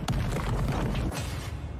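A loud, rumbling explosion from a One Punch Man anime episode fills the space with a dense, sustained roar and blast crackle lasting a couple of seconds, with no voices over it.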